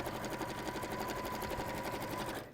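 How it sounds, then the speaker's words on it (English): A sewing machine stitches along the binding of a quilted project in a steady, close, rapid mechanical hum with an even rhythmic chatter, stopping right at the end. "starting with a reverse stitch each time you start on the top of the binding"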